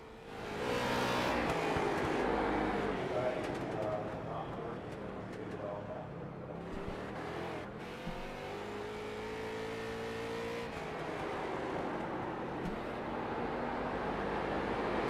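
Race car engines roar continuously around an iRacing Xtreme figure-8 oval during qualifying, with revving and passing sweeps rising and falling throughout, while a commentator talks over the steady engine noise.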